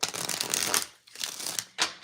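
Cards are shuffled in two quick riffling bursts, crisp and close, followed by a short snap.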